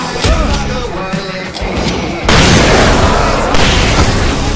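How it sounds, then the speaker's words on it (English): Fireworks go off in the video game Alan Wake Remastered, loud booming bursts and pops that swell into a dense, continuous crackling roar. "I can set off more of the fireworks from here and help you out!"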